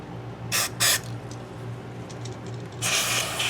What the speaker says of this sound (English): we're just gonna stick it in here and spray these out a little tiny bit